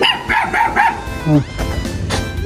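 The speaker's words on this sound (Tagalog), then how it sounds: "May aso, baka batukin tayo nito." A black dog barks several times in quick succession, loud and close, then whimpers briefly before a low rumble of background noise.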